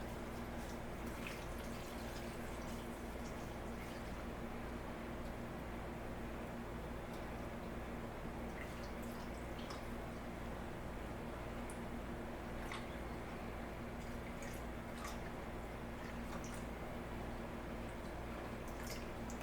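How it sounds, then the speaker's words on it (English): Beer brine poured over chicken drumsticks in a container for brining before smoking, a steady faint liquid trickle and splash running throughout under a low constant hum. "We want to go ahead and then just pour this brine till it is filled a little bit over the chicken."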